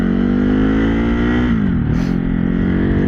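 A Ducati Desert X motorcycle engine drones loud and close while riding, holding a steady pitch before dipping briefly as the throttle eases, then settling back to a constant hum.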